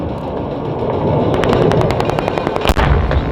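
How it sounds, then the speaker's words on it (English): At an airshow in Australia, a rapid burst of heavy automatic aircraft cannon fire rattles out over a loud roaring aircraft engine, ending with a sharp crack. "using the cannon"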